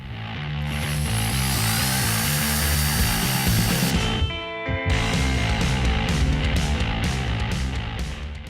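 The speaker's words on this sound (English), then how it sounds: "I'm going to go ahead and work this compound in until it goes clear" A power polisher works compound into a plastic car headlight to clear sanding marks, a steady loud whirring drone that dips briefly midway, then resumes with slight rhythmic surges.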